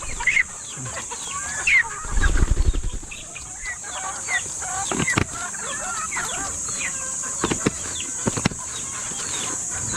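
Pet chickens on a farm clucking and chattering close by, with irregular bursts of calls and some nearby rustling and thumps over a steady background hum; no talking.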